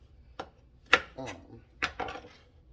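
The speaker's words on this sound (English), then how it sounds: "commence to dicing up your cucumber" A knife dices cucumber for relish on a board, giving a few sparse, crisp chops at low level, with a voice talking softly in between.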